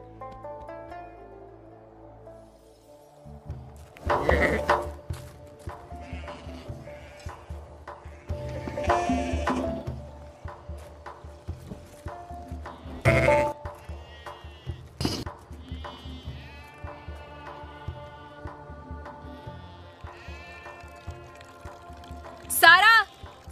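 Goat bleating in short wavering cries, several separate calls spread over a quiet rural scene with intermittent bursts of noise and a loud bleat at the very end; people talk quietly around it.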